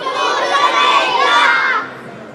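A large audience of children shouts an answer together in one loud, sustained burst of massed voices lasting about two seconds before fading away.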